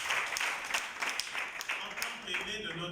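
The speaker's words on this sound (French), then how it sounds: "Monsieur, veuillez vous lever sous vos acclamations." Wedding guests cheer and clap for the witness as he rises, a moderate ripple of scattered applause in a room, with a voice talking over the clapping throughout.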